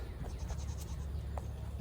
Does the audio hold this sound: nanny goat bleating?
yes